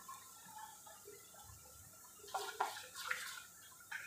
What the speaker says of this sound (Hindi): थोड़ा सा मुझे गाढ़ा लग रहा है इसलिए मैं थोड़ा सा पानी डालती हूँ इसमें